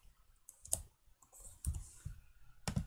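Quiet, close computer keyboard typing with scattered individual keystrokes and short clusters of clicks, with no talking.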